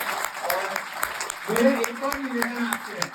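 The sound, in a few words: audience clapping at a university talk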